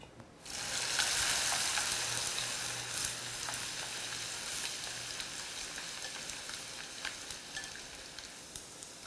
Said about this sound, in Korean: 절대로 너무 오래 튀기시면 안 돼요.